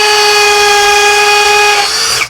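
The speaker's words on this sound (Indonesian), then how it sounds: "pindah dulu modenya di mode untuk pengeboran beton ya, di mode hammer ya" Kyoal KY6065 hammer drill set to hammer mode and boring into concrete at high RPM, a loud continuous high-pitched whine with strong tonal overtones that cuts off abruptly at the end, close up.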